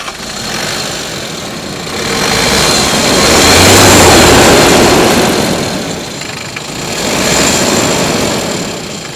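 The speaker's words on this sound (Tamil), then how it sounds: "வண்டி ஸ்டார்ட் பண்ண போகிறேன். அந்த இன்ஜின் சவுண்டும் அந்த இன்ஜினோட பெட்டெல்லாம் எப்படி இருக்குன்னு காமி." A Force 14-seater van's engine starts and runs loudly up close, its roar swelling in the middle, easing off, then rising again near the end.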